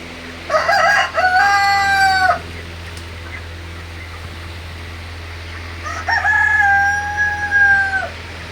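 Broiler chickens on a farm in hot weather give two loud, close bursts of crowing, each a drawn-out cry, separated by several seconds of quiet background hum.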